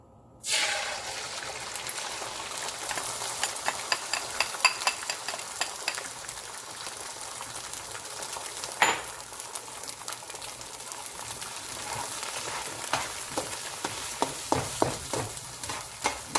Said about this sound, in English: Put some oil in there, get it nice and hot. And time to put in the egg.